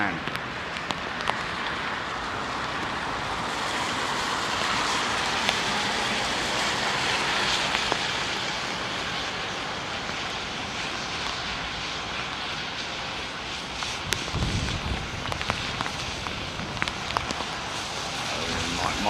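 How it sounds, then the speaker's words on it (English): Rain picks up outside an airliner window on a Virgin Atlantic flight from London Heathrow, a steady broadband hiss blended with the airplane's constant engine and cabin roar, with faint talk in the cabin. "Rain's picking up a little bit."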